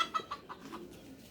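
A chicken clucks in short repeated bursts, several quick calls close by with a brief pause between them.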